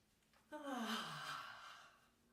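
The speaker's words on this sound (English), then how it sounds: "Another inhale through your nose." A single slow, deep breath is drawn in through the nose during a guided relaxation exercise, soft and close, rising and then easing away into quiet.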